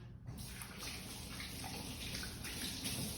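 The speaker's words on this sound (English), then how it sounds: "Wash your hands. COVID or no COVID. Wash your hands." Water running steadily from a kitchen tap for hands being washed during meal prep, a continuous close splashing hiss with no talk.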